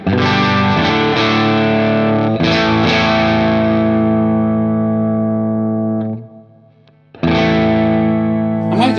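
Electric guitar played through a Uraltone Jr kit amp with EL34 power tubes, loud sustained distorted chords ringing out and decaying, a brief near-silent gap, then a fresh strummed chord.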